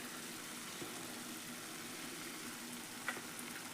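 Oil bubbles and sizzles steadily under gram flour junuka curry in a pan on a gas stove, with coriander being stirred in; a soft, even frying hiss throughout with a brief clink near the end.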